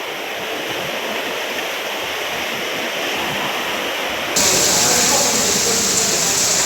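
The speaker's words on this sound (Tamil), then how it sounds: "சென்னை விமான நிலையத்தில் மின் விளக்குகள் வழியாக அருவி போல் கொட்டும் மழை நீர்." Rainwater gushes like a waterfall through light fixtures at Chennai airport, a steady, loud, broad rushing roar that swells noticeably louder partway through.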